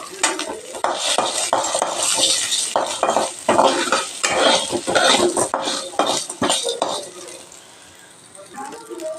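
Cumin seeds fry in a pan alongside onions and dal for a manathakkali chutney. Busy stirring scrapes and clinks run over a sizzle, with a voice talking in places, before things quiet toward the end.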